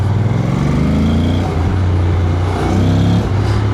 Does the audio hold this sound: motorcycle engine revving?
yes